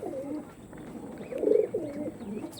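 Original Chennai breeder pigeons coo in soft, repeated rolling phrases, a few close calls rising and falling over a light background hum with no talk.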